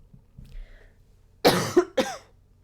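A lecturer coughing during a statistics class: two or three sharp, close coughs in quick succession after a quiet pause.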